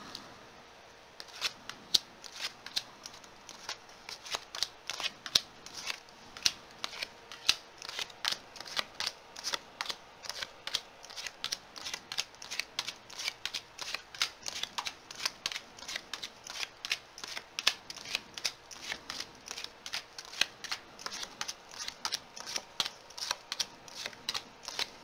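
Tarot cards riffle-shuffled over and over, a steady stream of crisp, snappy flutters close by with brief pauses between bursts, no voices.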